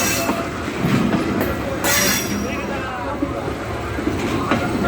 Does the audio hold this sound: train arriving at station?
yes